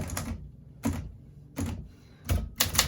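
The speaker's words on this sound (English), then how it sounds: "Let's get typing on this for a moment." An Olympia SM9 manual typewriter being typed on, four loud bursts of clacking keystrokes roughly every 0.7 seconds, each a short cluster of sharp mechanical strikes close to the microphone.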